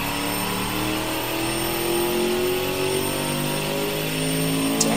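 Simulated turbocharged 800hp V8 engine in an engine-building video game revving steadily upward, a continuous loud mechanical drone with rising pitch and no talking.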